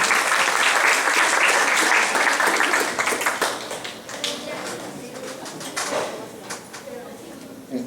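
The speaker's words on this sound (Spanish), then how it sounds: "Invito al periodista Ramón Espejo Castañeda, un voto de aplauso y vamos a recibirlo con todo respeto y cariño" An audience at a journalism conference applauds to welcome journalist Ramón Espejo Castañeda, with sustained, loud clapping that gradually fades into scattered claps and room noise.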